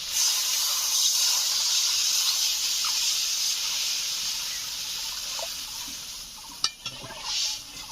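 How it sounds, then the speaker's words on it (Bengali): Water hits a hot pan of frying potatoes, a loud hissing steam burst that slowly fades to a softer simmer, with a sharp utensil knock near the end. "এখন দিয়ে দিচ্ছি জল"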